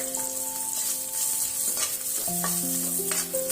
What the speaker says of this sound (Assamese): এয়া মই পনীৰখিনি ফ্ৰাই কৰি লৈছোঁ।